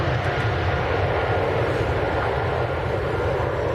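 A KLM airliner at Manchester Airport gives a loud, continuous low engine rumble with a broad roar, close and steady throughout, with no speech.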